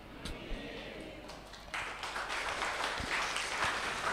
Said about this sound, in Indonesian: Kenapa tepuk tangan?